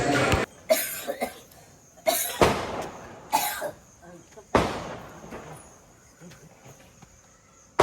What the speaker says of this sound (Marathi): खोकत खोकत चालले